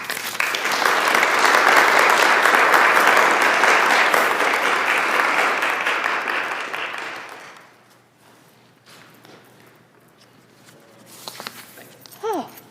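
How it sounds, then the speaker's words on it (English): Audience applause at a high school National Honor Society induction ceremony, a dense, loud clapping that holds steady for about seven seconds before fading into quiet room noise with faint shuffling and a brief voice. "the applause was much louder"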